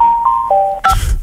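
A Hungarian morning radio show's weather-report gong signal plays as a short descending run of clean electronic chime tones, loud and alone, ending in a brief burst of noise.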